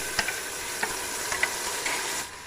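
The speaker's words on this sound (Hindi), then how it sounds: "अब इसमें मैं टमाटर शामिल करूँगी" Tomatoes added to mutton trotters frying in a pan, a steady close sizzle with a few soft stirring clicks before the hiss eases near the end.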